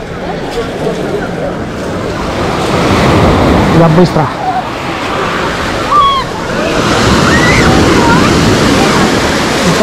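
Sea waves washing and breaking nearby after a storm at Lazarevskoye, with wind buffeting the microphone; a voice speaks briefly in Russian over the surf.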